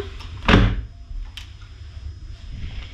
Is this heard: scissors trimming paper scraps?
no